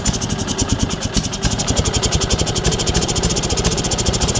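A Sears SS16 snowblower engine runs in -25°C cold with its choke stuck on, giving a loud, rapid, uneven chugging idle with knocking pulses, close up and with no one speaking.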